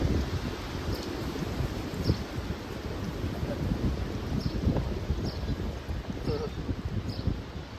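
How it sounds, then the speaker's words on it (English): Outdoor wind rushes steadily across the microphone with a soft rustling texture and faint clicks, moderately loud throughout; a voice talks quietly underneath. "Hear the wind."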